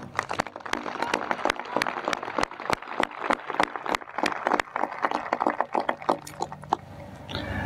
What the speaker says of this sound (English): a round of applause for all of our graduates here and around the world